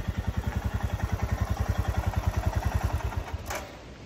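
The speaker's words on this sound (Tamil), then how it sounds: "நம்ம பைக் சவுண்டு கேட்குது" A motorcycle engine idles up close with a fast, even thumping putter that stays steady, then eases slightly near the end.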